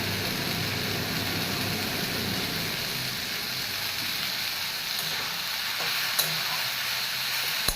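Water spinach (kalmi shak) frying in a pan, a steady broad sizzle with soft stirring scrapes throughout, moderately close, with a couple of sharp utensil clicks near the end; no voices.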